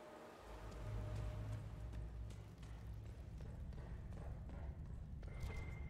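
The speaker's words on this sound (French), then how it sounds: "Putain, ce bruit de pas." Footsteps echo through a Dragon Age Inquisition environment, a faint, regular patter of repeated steps over a dull rumbling ambience, with no voices over them.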